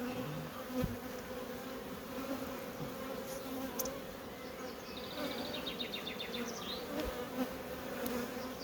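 Honeybees humming around an open hive with heavy pollen coming in, a dense continuous buzz with individual bees passing close by, steady throughout with no voices.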